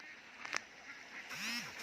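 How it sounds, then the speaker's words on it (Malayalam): Ducks forage in a paddy field at sunrise, giving a faint, brief call or two against a quiet, breezy background. "കിക്കി കിക്കി എന്ന് വെച്ചുകൊണ്ട് എര തേടുന്ന താറാവുകളെയും"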